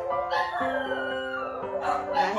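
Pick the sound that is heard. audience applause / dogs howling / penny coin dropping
dogs howling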